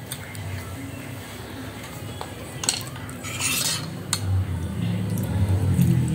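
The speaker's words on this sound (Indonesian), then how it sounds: "Karena ini tempenya tebal, kita potong dulu." A knife and fork cut through a thick slab of tempeh on a plate, with scraping and a few sharp clinks of metal on ceramic over a steady low background.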